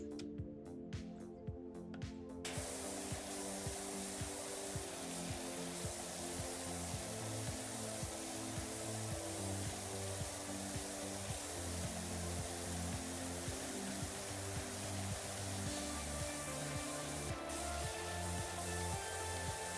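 Steady high-pressure water spray from a green pressure washer in PowerWash Simulator 2, a continuous hissing rush with a low mechanical hum beneath, holding level throughout after a brief rougher start.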